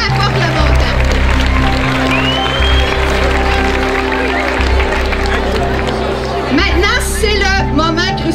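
Steady applause and excited crowd noise fill a school charity walk gathering, clapping and chatter blending into a loud, continuous hubbub with scattered shouts near the end.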